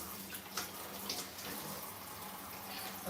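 Vegetables including cauliflower are rinsed together under a running kitchen tap, a steady broadband rush of water with a few brief splashy bursts as the produce is handled, close and alone without talk.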